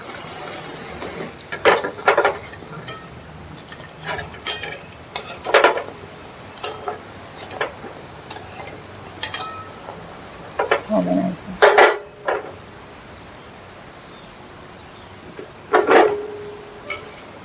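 Singaras being fried in oil and lifted out of the pan, with scattered metallic clinks and scrapes from a spoon against the pan, a brief soft sizzle and quiet stretches between.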